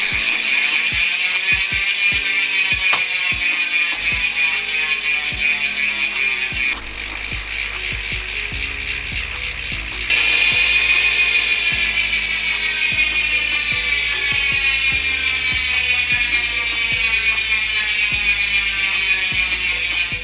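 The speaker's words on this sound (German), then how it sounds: "Und schon habt ihr euren Freilauf etwas lauter gemacht und getuned." Bicycle freewheel hub modified to ratchet louder, spinning in a dense, continuous high-pitched buzz of rapid pawl clicks that dips briefly in the middle before resuming at full strength.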